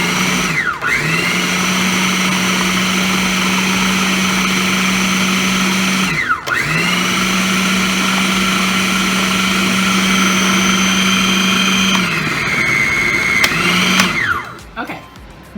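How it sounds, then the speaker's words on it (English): An electric beater whirs loudly through cream cheese for a cheesecake filling, a sustained motor hum that cuts out briefly twice as the bowl is worked around the edges, then stops near the end. "You gotta take your beater and you gotta get it around the edges so it can be very,"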